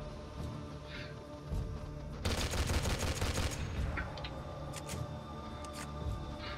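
Storm PSR gun firing in Garry's Mod: a loud, dense burst of rapid shots in the middle over a steady background hum, with scattered fainter cracks before and after.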